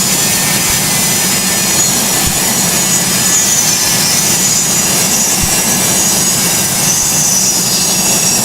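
Boeing 727 jet engines in the Project Flight video game, climbing after takeoff from Larnaca: a loud, steady, broadband roar that fills the whole clip without letting up, with no talking over it.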